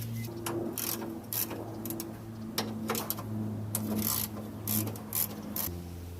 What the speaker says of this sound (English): Now I'm going to go ahead and remove the 2 bolts holding the hose in place down onto the tension rod bracket.